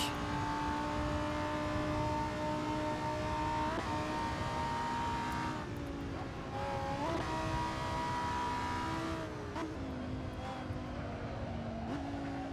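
Lamborghini Huracan GT3 race car in the video game Assetto Corsa, engine droning steadily with gear-shift dips and rising revs, close and continuous throughout with no voices.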